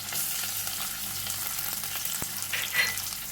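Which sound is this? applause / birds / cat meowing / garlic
garlic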